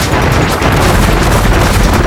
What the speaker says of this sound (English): but I've got bombs